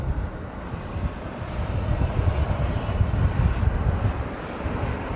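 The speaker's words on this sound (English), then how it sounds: "The one behind it is the UPS 747. It's heading off to Sydney." A UPS Boeing 747 heading out on takeoff produces a broad, steady low jet roar with rumbling turbulence, moderately loud and unbroken, with some wind buffeting on the microphone.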